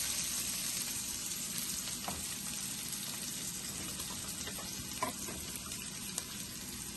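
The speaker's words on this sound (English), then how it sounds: "as you can see, the water is boiling" Water boils in a cooking pot as a steady, close bubbling hiss for the whole stretch, with a few faint clinks.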